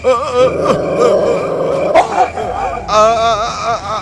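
A dog growls and snarls up close, loud and agitated, with a few sharp yelping notes breaking through near the end.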